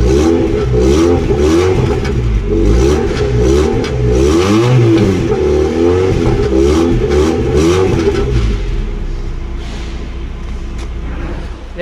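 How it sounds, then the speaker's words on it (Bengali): A 1300cc Toyota Corolla 111 car engine runs up close with a loud, rough idle that rises and falls in repeated revs, then drops slightly near the end. No one speaks over it. "আমি এখন গাড়ির ইঞ্জিনের সাউন্ডটা শোনাচ্ছি"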